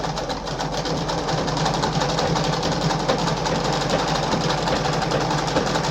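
A Singer 5107 sewing machine stitches fabric in a continuous, even mechanical whir with a rapid rhythmic patter, close by and without talk.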